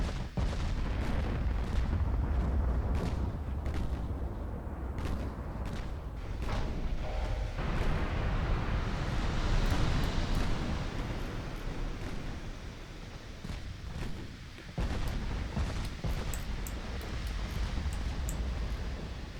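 Naval gunfire in the warship game Ultimate Admiral Dreadnoughts: repeated heavy booming salvos and rumbling blasts over a dense, continuous low roar, loud and close with no talk.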